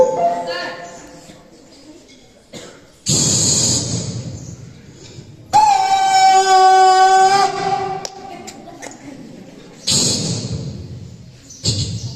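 A voice mimics a train, with a rising hoot like a whistle and rough chugging bursts that start and stop, loud and close.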